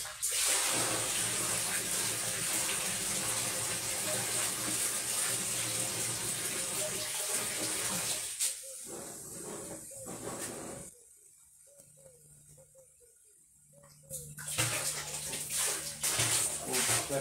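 Liquid being tipped carefully into a container while preparing a moonshine fermentation, a steady rushing pour for about eight seconds, then a quieter pause before the pouring and splashing resume.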